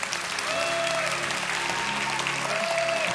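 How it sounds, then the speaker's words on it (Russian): A forum audience at a youth customs event rehearses its applause, producing a loud, steady wash of many hands clapping that fills the whole moment. "тогда ваши аплодисменты порепетируем"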